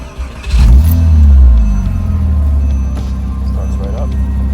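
A 2006 Porsche Boxster S with its 3.2-liter engine cranks and fires up close by, settling into a loud, steady idle rumble.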